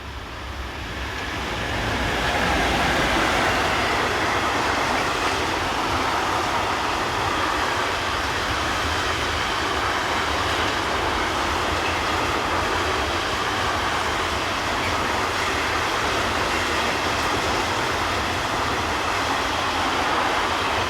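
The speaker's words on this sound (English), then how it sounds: "(145055) heads north with train KT 42156 from Verona to Rostock" Class 145 electric locomotive hauling a freight train on a busy German mainline between Fulda and Bad Hersfeld, a loud sustained rolling rumble that swells in over the first seconds and then holds steady for a long pass.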